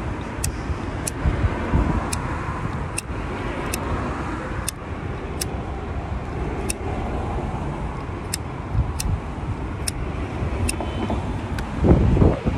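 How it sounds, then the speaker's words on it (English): Outdoor wind buffets the microphone in a steady, loud, low roar that runs throughout, with brief gustier surges near the end and no talking. "It's fucking windy."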